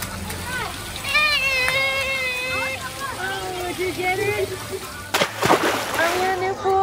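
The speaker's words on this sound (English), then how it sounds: "Oh, he's splashing." Someone splashes in an infinity pool at the Aulani resort: sloshing water runs under chatter from adults and a child, and a sharp, louder splash bursts near the end.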